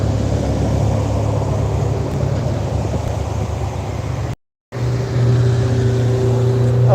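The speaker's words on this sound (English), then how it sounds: "it's only like 2 cars, so I can cross here once they pass." Car traffic on a road, heard from a pedestrian waiting at the roadside: a steady loud engine and tyre rumble from passing vehicles, briefly cutting out, then resuming as another car goes by.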